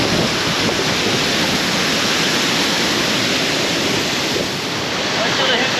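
A rainforest river and waterfalls roar as dense, steady broadband rushing water, loud and close and unbroken throughout, with no clear voices.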